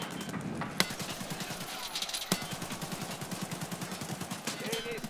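Rapid automatic gunfire in the shooter game Arena Breakout, a steady rattling stream of shots with a few sharper louder cracks, moderately loud, with a voice speaking over it.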